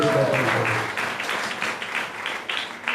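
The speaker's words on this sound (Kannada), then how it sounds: "ಒಬ್ಬರು ಚಪ್ಪಾಳೆ ತಟ್ಟಿರೋದು." Applause at a live Sunday church service, a steady patter of hand claps filling the room for several seconds, fairly loud and continuous rather than one distinct clapper.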